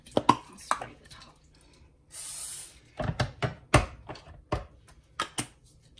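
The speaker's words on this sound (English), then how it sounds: "I'll spray the top." Cooking spray hisses onto a pan in one brief burst, lasting about half a second, amid sharp knocks and clinks of kitchen utensils while breakfast is being made.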